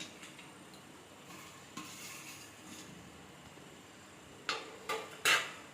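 Jackfruit payasam with roasted coconut, cashews and raisins being stirred in a pot, soft scraping and swishing that ends in a few sharp clinks of a spoon against the vessel.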